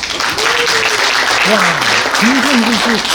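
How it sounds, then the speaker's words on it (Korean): An audience at a local county government talk applauds in a dense, continuous patter while a voice speaks over it with rising and falling intonation. "맞으면 박수 쳐주세요."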